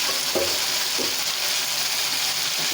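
Potatoes for spicy achari aloo gobi fry in a pan on high heat with a steady, even sizzle. A few faint stirring scrapes sound over it, and no one speaks.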